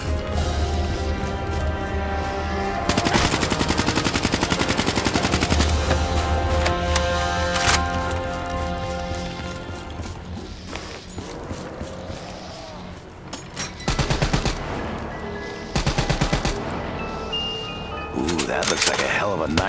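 Rifle fire rings out in Call of Duty Zombies on the Der Eisendrache map, dense bursts of shots over a busy game soundtrack, with a loud cluster near the start and further volleys later while someone talks.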